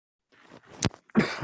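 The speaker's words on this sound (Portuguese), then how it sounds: "desculpem a minha tosse bem comum" A man coughing during a spoken lecture on Christian apologetics: a sharp, close cough followed moments later by a heavier, rougher burst, with quiet breathy sounds around them.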